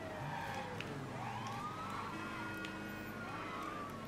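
Police sirens wail and sweep continuously during a car chase in the video game Mafia 3, with overlapping rising and falling tones over engine noise and no talking.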